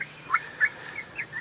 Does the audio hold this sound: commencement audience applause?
no